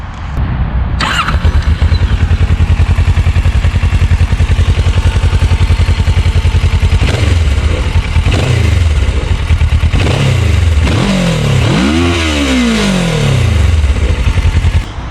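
Kawasaki Versys 650 motorcycle with modified exhaust idling loudly and steadily up close, then blipped in several sharp revs that rise and fall, the last one longest, all alone without talk.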